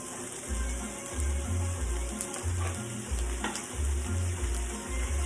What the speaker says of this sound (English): So I got the steak inside the pan with the veggies.